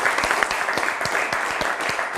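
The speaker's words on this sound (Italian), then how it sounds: "facciamo un applauso a Francesco" A TV quiz show studio audience in Italy gives a young contestant loud, steady applause, with individual claps standing out in a fairly even rhythm throughout.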